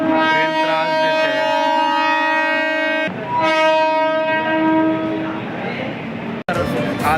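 A Mumbai local train at Borivali station sounds a loud, sustained horn in two long blasts. Rail rumble underneath continues close and strong.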